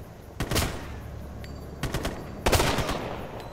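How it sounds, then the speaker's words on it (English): Bursts of machine gun fire from an enemy gunner in Ghost Recon Future Soldier, with three sharp clusters of rapid shots that stand out loud and close over a steady battlefield background. "He's on an MG!"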